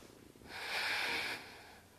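A long, steady breath is held and released during a yoga pose for lower back pain, rising to a soft, airy hiss in the middle and fading, close and quiet.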